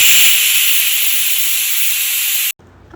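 A pressure cooker cooking kanji lets out a loud, sustained hiss of escaping steam, close and steady for about two and a half seconds before stopping abruptly.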